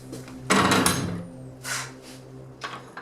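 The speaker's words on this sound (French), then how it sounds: "Je vais fermer la porte." A door in an abandoned building bangs shut with a loud wooden knock and rattle, followed by a few quieter thuds and creaks, with no one speaking.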